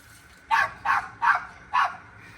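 Four evenly spaced sharp barks from a dog nearby in a garage-like setting where engine maintenance is underway, each bark loud and clear against a low background hum, with no talking.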